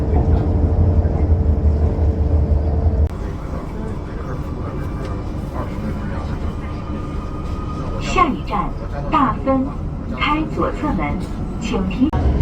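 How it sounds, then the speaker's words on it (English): A passenger train rolls along the rails with a low, continuous rumble that drops in level after a few seconds, while people talk in the background. "We're still going on this train"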